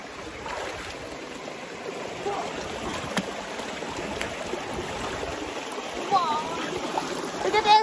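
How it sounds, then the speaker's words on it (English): A stream flows steadily nearby on a hike, a constant broadband wash of water with small splashes toward the end. "there's a lot of water over here"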